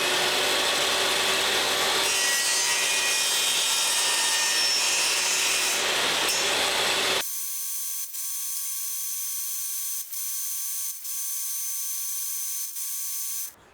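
Wood pieces for a guitar's access port components are cut with a saw, giving continuous rasping strokes for about seven seconds before the sound gives way to a steady thin tone with faint periodic ticks.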